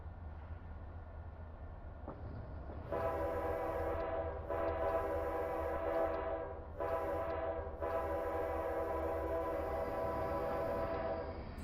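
A train approaches a curve near a road crossing, its low rumble building under a loud, multi-tone horn that blows in several long blasts separated by short breaks.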